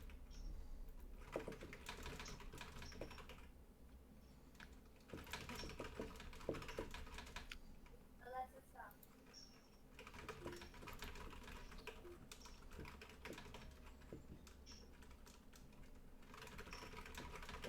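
Typing on a computer keyboard produces a steady patter of soft key clicks with small irregular bursts and brief pauses, quiet and close, with no voices.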